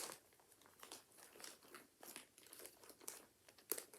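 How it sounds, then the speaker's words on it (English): A handmade project bag holding small craft projects crinkles and rustles up close, with soft, uneven crackling that continues throughout. "I'm sorry for the crinkling, I keep my little projects in this project bag that I made."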